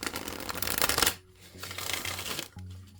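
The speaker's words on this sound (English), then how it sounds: "shuffle these cards" Oracle cards being shuffled by hand, a dense papery riffling burst followed by softer sliding and tapping of the deck, close and clear with no talking.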